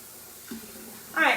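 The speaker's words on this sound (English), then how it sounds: "Let's just add a little water." Water poured into a pot of beef stew, a short splashing gush that rises near the end after a quiet moment, close by.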